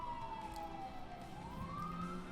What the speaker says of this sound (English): As the sirens go by.